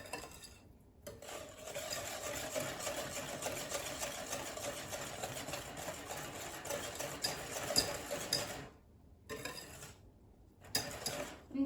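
Brownie batter of butter, melted chocolate and eggs being stirred steadily in a bowl, a continuous scraping and swishing with brief pauses near the end.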